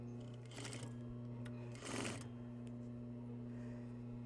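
A sewing machine stitches a fabric seam at a half-inch allowance, starting and ending with a back tack, in two short buzzing runs over a steady motor hum, close and clear with no talking.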